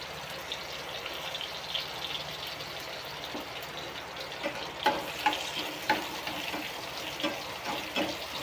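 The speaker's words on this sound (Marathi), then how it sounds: "मिरच्या धुवून घेतल्यात ना, मग त्या उडतात. हे बघा मिरची चांगल्या भाजून घ्यायच्या." Washed green chillies roast in a hot pan with a soft steady sizzle, broken by scattered small pops and spluttering crackles that grow more frequent toward the end, fairly quiet and close, no talk.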